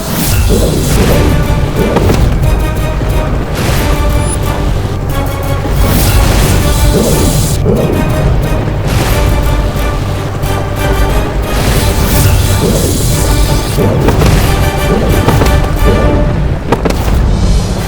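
Continuous loud booming blasts and crashes pile up in a dense, chaotic din that never lets up.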